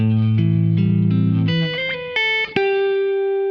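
Electric guitar playing a low bass line that climbs with sliding notes and hammered pitches, ending on a ringing held note, alone.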